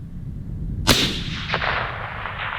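A factory precision rifle fires one sharp, loud shot at a range with a 640-yard target, followed about half a second later by a fainter report or echo. The roll of the sound fades into the open air.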